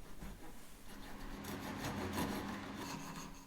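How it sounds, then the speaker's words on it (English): Close, scratchy rasping of sandpaper rubbing back and forth in a wooden slot, steady and gradually building, with no talking. "A bit more for sanding just to refine the slot"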